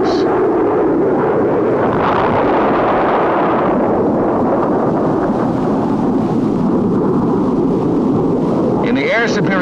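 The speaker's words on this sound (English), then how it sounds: "Napalm, a part of the 104 weapon inventory, is used against enemy concentrations and similar targets." Napalm bombs dropped from an F-104 jet in 1962 archival footage erupt in a long, deep, rolling roar that swells and rumbles continuously, loud and sustained like distant thunder.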